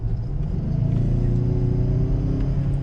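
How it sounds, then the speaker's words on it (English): A Ford Bronco Sport Badlands engine hums inside the cabin and swells slightly as it revs under full-throttle acceleration in normal mode, a low, steady rumble without talk. "you hear the engine rev up a little bit"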